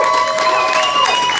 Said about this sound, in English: I'd like to give a warm round of applause for that man over there, Mr. Scott Peavy.